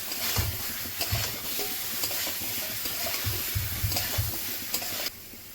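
Chicken pieces, raw papaya and potato get stirred into sizzling masala in a pan. Steady frying hiss runs under repeated scraping stirs and soft low thumps, close and loud, then drops off suddenly near the end.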